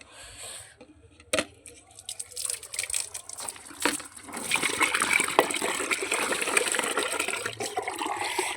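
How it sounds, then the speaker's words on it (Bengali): Soaked oilcake water is poured onto potato and cabbage plants in a garden bed, a close splashing gush that starts faint and grows steadier and louder in the second half, with no speech. "সব জায়গায় খোল ভিজানো জল একটু করেই দেবো"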